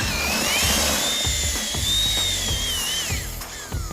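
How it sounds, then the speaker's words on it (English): A power drill fitted with a paint mixer attachment whirs loudly as it mashes apples, its pitch rising and falling under load against thumping, sloshing pulp for a few seconds. "And that's where the paint mixer comes in. And it fits onto any drill."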